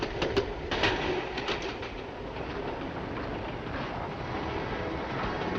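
A 1960s British Rail diesel train runs along the rails with a steady rumble and some clicking joints, loud at first and then easing into a continuous roll.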